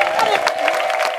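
A church congregation applauds together, a dense, steady patter of clapping with crowd noise running evenly through a brief moment.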